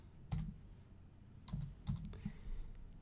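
Quiet keystrokes on a computer keyboard come in a few short separate taps and clicks over low background hum, with no talking.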